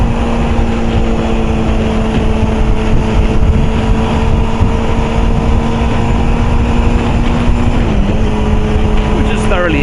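Old motorcycle with a 45-horsepower engine rated at 12,500 revs, ridden on a coastal road: a steady loud engine drone with heavy wind rush, a brief pitch change near the end, and someone talking over it.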